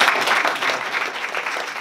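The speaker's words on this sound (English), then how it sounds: "big round of applause for answering those questions" A live audience at a sustainability talk on building a more sustainable capital region gives a steady round of applause, dense overlapping clapping sustained at even loudness throughout.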